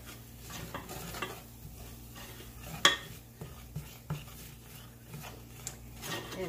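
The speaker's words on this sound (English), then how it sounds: "Now let's stir this up a little bit" A chicken mixture with turmeric is stirred in a pan, giving soft scraping and occasional clinks of a utensil against the cookware, one sharper knock partway through, over a low steady background hum.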